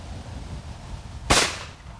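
A single sharp gunshot cracks out at a target shooting range, one loud close report over quiet background.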